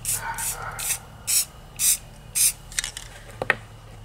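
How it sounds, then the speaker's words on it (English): Spray paint hisses onto DIY Christmas decorations in short bursts, several quick sprays of a can in a steady rhythm, close and fairly loud, followed by a few small clicks and handling noises. "so I didn't spray a whole lot of paint on there"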